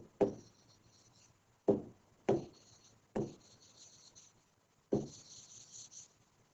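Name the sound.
writing notes during a lesson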